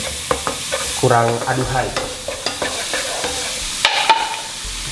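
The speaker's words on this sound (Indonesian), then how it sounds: "Kita saute dikit sampai keluar wanginya gini." Ground spice paste with candlenut sizzles as it is sautéed in a pot, with a steady frying hiss and scraping stirs. A person speaks briefly over the cooking.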